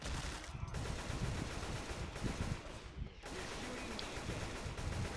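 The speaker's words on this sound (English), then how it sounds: "Why are you shooting me?" Left 4 Dead 2 gunfire crackles in dense rapid bursts with brief pauses around the first and third seconds, loud and close, mixed with game noise and background voices.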